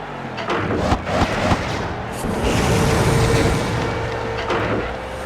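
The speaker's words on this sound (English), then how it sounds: "Kane now has the twisty rockets." Twisty rockets fire and explode in the WWE Crush Hour vehicle combat video game, a loud rumbling blast with booming bursts that swell into a sustained roar.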